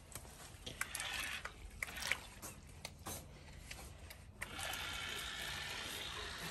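A LELETAM amphibious dinosaur RC car runs in water mode, giving a steady whirring, splashing churn with clicky mechanical ratchet sounds that grows louder and more continuous toward the end.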